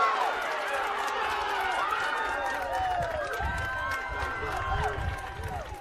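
Patterson fans cheering at a high school baseball game, a lively crowd roar with whistles and shouts under close-up talk.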